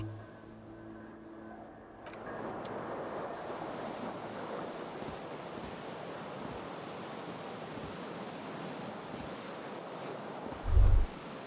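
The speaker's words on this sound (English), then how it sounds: "A cool wind gushes in." Cool wind gushing through a smashed window in the Disco Elysium game, a steady breathy rushing noise that swells after a quiet start and carries on evenly, ending with a short low thump.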